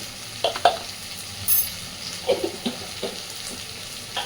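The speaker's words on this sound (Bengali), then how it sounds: "খুব ভালোভাবে এবার সব কিছুকে মিশিয়ে দেবো।" Ghugni with a pinch of garam masala being stirred in a hot pan, a low sizzle with several soft scraping strokes of the spoon at an uneven pace, close and fairly quiet.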